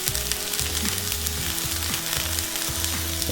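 Onions fry in a cast iron pan, softening and starting to colour, giving a constant close crackling sizzle with a faint steady tone and low hum beneath, no talking.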